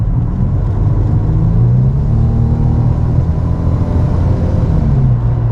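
A flooded Infiniti G35 with nearly 250,000 miles accelerates on the road, its engine a steady, loud low rumble with gently rising pitch and continuous road noise throughout.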